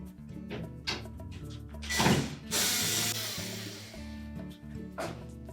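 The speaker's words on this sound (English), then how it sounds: "we're next going to remove these two screws that secure that main top to the cabinet" Mechanical ratcheting and clicking from a tool removing the screws securing a Whirlpool dryer's main top to the cabinet, with bursts of louder grinding and whirring in the middle, close and fairly busy.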